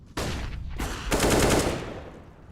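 Close automatic gunfire from a Counter-Strike match at the IEM New York 2020 tournament rings out in two dense bursts, a short one and then a longer one, loud with no talk.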